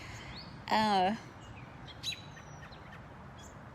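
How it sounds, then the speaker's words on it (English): Outdoor birds chirping behind a speaker: one loud, close, buzzy call early on, followed by a few faint thin chirps and whistles over quiet background, with a brief spoken word. "definitely got some birds chirping hardcore back behind me"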